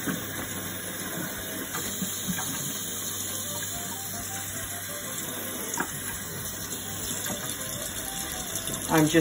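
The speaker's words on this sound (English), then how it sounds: "release of pressure here by running cold water over it" Cold tap water runs steadily over a hot pressure canner holding jars of beets to bring its pressure down, a continuous close-up gush and splash lasting throughout with faint clatter near the end.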